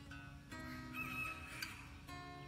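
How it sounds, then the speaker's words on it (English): A rooster crows faintly in the distance over a backyard vegetable garden, a single drawn-out call against quiet outdoor ambience and a low steady hum. "Oh, that was a new crow."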